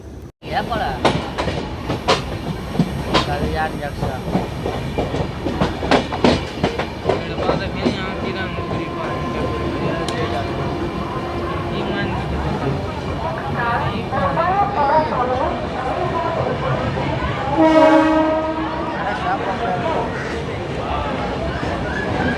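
A sleeper coach of the 12336 Bhagalpur SF Express pulls slowly out of a station near Kalyan. Rail clatter and rumble run steadily throughout, with a brief squeal late on, mixed with background chatter and voices.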